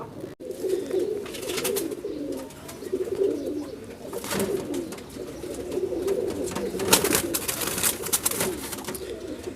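Young pigeons, a Rampuri and Teddy cross, cooing softly and continuously at close range, with low murmuring calls and occasional rustling; no talk.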